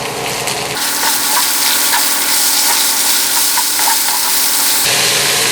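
Onions go into hot oil with frying dried chillies, and a loud, dense sizzle surges and holds steady, close up and without voices.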